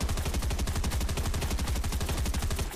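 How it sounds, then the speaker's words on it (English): Dense, continuous video game gunfire pours in from all sides, a rapid rattling stream of loud automatic shots with no pause. "We are being shot from all the sides."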